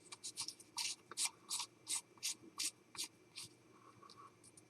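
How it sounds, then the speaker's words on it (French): The top of a Smoktech e-cigarette tank is screwed on by hand, giving about a dozen short, quiet rasping twists in a steady rhythm, close to the microphone. "il suffit de prendre là le haut du tank et de le visser"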